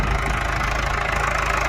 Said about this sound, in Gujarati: ટ્રેક્ટર ખરપ્યા છે